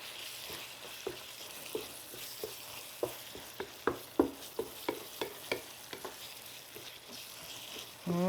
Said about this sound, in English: Jeff Edwards, I'm using a wooden spoon